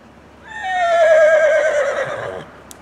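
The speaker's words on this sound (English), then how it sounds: "it's a wild horse" A single loud wild horse whinny in Montana, starting high and trailing down into a shaky, quavering neigh lasting about two seconds, with no speech.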